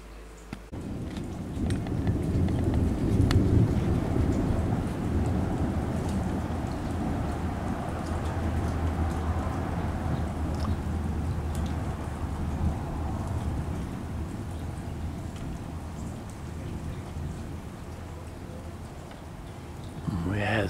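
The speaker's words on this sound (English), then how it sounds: "Some more thunder just now." Steady monsoon rain pours in the late-afternoon suburbs of San Diego, California, a dense continuous hiss with a low rumble of thunder rolling underneath, close and constant throughout.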